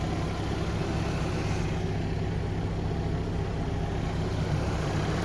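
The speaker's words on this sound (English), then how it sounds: "I got her started up, just getting her all warmed up" A 1987 Ford Ranger pickup engine idles while warming up outdoors in snowy weather, a steady low rumble holding evenly throughout, moderately distant and with no talking.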